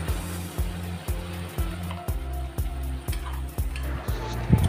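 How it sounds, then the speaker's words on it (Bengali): Fried potatoes and pointed gourd get stirred into a spice mix over medium heat, with a low sizzle of oil under regular spatula knocks against the pan, about eight close, evenly spaced taps. "এবার এই আলু পটলগুলোকে মশলার সাথে আরেকবার কষিয়ে দিচ্ছি"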